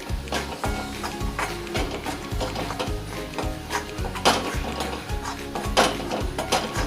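A spoon stirs and scrapes mixed vegetables, seasoned with red masala, as they sauté in a pan for Bhogichi Bhaji. Close, loud and rhythmic, the repeated scraping strokes sound over a steady sizzle, with no talking.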